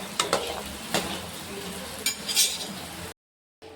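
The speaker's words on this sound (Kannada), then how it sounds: "ಕರೆದು ತೊಗೊಳ್ಳೋಣ ಇವಾಗ ನೀಟಾಗೆ ಚೆಂದಾಗೆ ಕರೆದು ತೊಗೊತೀನಿ ರೀ" Modak dumplings deep-frying in oil give a continuous sizzle, with a few sharp metal clinks and scrapes from a utensil stirring in the pan. The sound cuts out briefly near the end.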